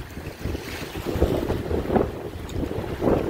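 Steady gusting wind buffets the outdoors during a trout fishing trip, a rough rumbling rush with soft surges, moderately loud and with no voices.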